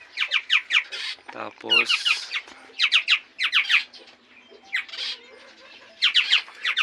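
Barred buttonquail (batobato) breeder birds calling in a series of sharp, rapid squawking chirps in short bursts, fairly close. A brief low call also sounds among them, and someone speaks a word in the middle.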